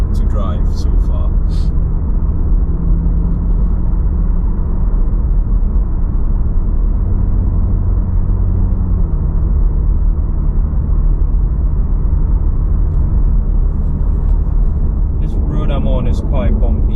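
A 2022 BMW G80 M3 Competition xDrive cruising over a bumpy road, heard as a steady low cabin rumble of tyres and engine. A brief engine tone shift comes midway, and someone speaks near the end.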